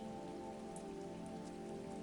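Continuous rain hissing at a low, even level, with occasional distinct droplet splashes standing out briefly and no speech.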